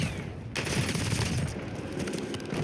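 Rapid, dense automatic gunfire from a weapon in the shooter Warzone, hitting a row of targets; a loud, continuous burst with barely a pause, close and dominant, with no talking.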